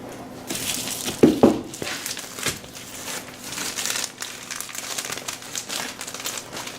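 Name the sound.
insulation material crinkling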